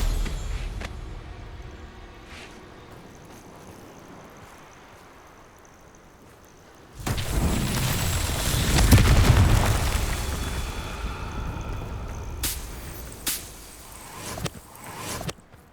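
Confringo explosive spell cast in Hogwarts Legacy: a quiet stretch of ambient game sound gives way to a sudden loud booming blast with a long rumbling, crackling tail, followed by a few sharper bursts near the end.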